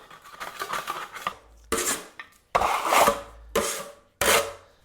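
A pointing hook and plastering trowel are wetted and scrubbed clean: a run of rubbing, scraping strokes, then several loud separate bursts of splashing and rasping, close by with no talk.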